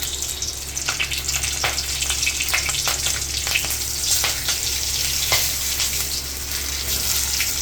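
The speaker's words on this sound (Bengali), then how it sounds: "তেল গরম হলে কালো জিরে দিয়ে দিলাম, চেরা কাঁচা লঙ্কা দিয়ে দিলাম কয়েকটা" Nigella seeds and slit green chilies fry in hot oil in a kadai, giving a steady close crackling sizzle with sharp spattering pops scattered throughout and no talk.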